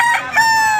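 A chicken or rooster at a Grotto Market chicken shop gives a loud, close, sustained crowing call, heard alone in a single short burst.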